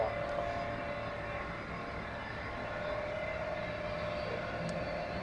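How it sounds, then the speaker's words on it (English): Airbus A340 airliner at Zurich Airport, a steady broadband jet roar with a faint whining tone, continuous and fairly distant, with no talk. "Here we have the A340 from Tampa."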